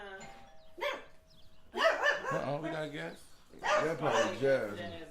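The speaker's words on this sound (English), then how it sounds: "Excuse the dog." A dog barks indoors, with a few short barks and whimpers set back in the room while people talk over it.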